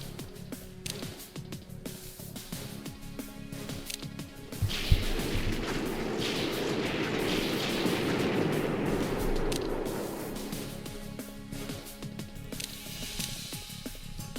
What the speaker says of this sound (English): We could just bombard them.